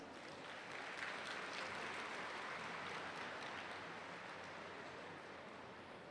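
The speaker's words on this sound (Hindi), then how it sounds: "आप इस कार्यक्रम के लिए ताली बजाएंगे।" An audience at a spiritual gathering claps together in a long, even burst of applause, soft and slightly distant, holding steady without any talk.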